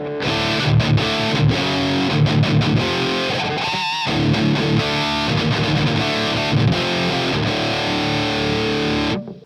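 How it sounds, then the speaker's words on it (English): Electric guitar played through a TWS Lulis amplifier with its onboard overdrive boost engaged, thick distorted chords and riffs with a brief pause near the middle, loud and alone. "just play with the OD boost on the amplifier"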